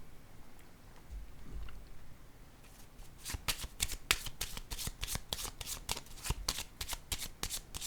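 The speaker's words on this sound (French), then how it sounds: "Je vais déposer une carte sur créativité." A card from a deck set down onto a table, followed by a long run of rapid crisp flicking clicks as the cards riffle close to the microphone, with quieter handling noise beforehand and no voices.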